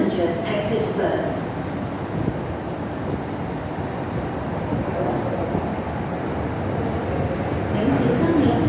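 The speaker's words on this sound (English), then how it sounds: "The train to Whampoa is arriving." MTR Kwun Tong line M-Train pulling into a station platform, a steady rumbling roar with wind-like rushing that swells toward the end, while an announcement voice speaks over it.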